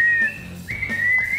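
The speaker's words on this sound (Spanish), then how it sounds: "Silba, pues." A person whistles a short, bright tune of a few sliding notes, clear and close, with no talking.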